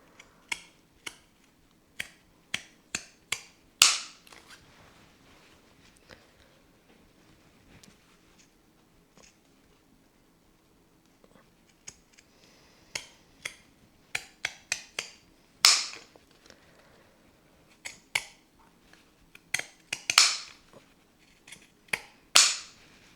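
Sharp little snips of embroidery scissors cutting fabric come in irregular bursts, some crisp and loud, others faint, with quiet pauses between the cuts.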